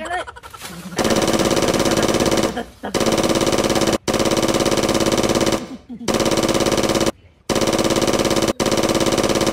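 Long bursts of rapid automatic gunfire from a video game, loud and close, broken by brief pauses, with voices talking and laughing underneath.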